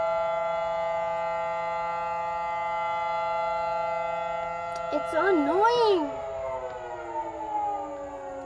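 A steady civil defense siren drones with layered tones, then winds down and fades, while someone speaks briefly over it.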